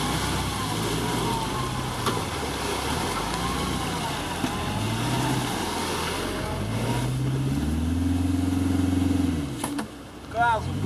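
A UAZ off-road vehicle towing a Subaru Forester through a forest stream, its engine revving loudly and steadily with rising and falling surges close by.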